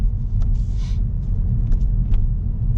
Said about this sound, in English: And moving the car forward.